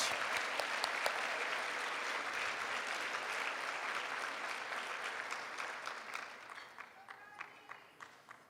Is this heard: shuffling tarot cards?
no